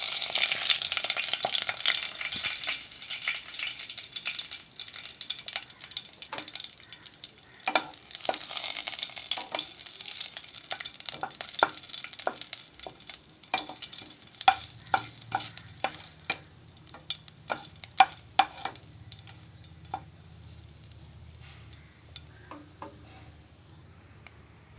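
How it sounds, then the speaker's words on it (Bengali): Dry red chillies, bay leaves and whole garam masala crackle and sizzle in hot oil, with bright spitting at first, then scattered pops and stirring clicks as the sizzle fades, heard alone without speech. "তেলটা গরম হয়ে গেছে, আমি এবার ফোড়নটা দিয়ে দেবো।"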